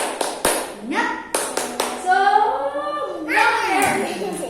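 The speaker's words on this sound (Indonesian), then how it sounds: "Yeay, tepuk semangat 2" Rhythmic clapping chant used to rouse toddlers before a lesson, with sharp, uneven hand claps mixed with a sung, child-directed voice, close and lively.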